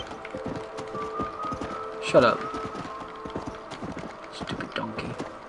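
Donkey hooves clip-clopping in Red Dead Redemption, a quick rhythmic trot of hoof steps under game ambience, with a voice briefly speaking.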